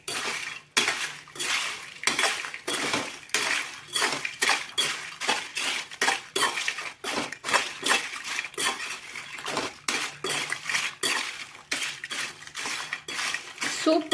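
Crisp masala papad is gently tossed in a bowl, giving a steady run of light clinking, scraping and crackling strokes close by, repeated in an even rhythm for several seconds with no talking.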